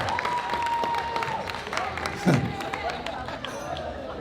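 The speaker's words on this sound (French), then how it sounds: "On applaudit." Applause at a wedding reception, scattered clapping and crowd noise over a busy room, with a voice and a sustained musical tone running under it.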